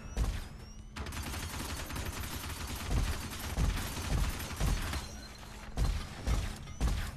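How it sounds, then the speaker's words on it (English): Enemies fire in Shadow Complex with a fast, dense rattle of shots and metallic impacts that continues throughout at moderate volume, in irregular bursts with short pauses. "why aren't you shooting in the background?"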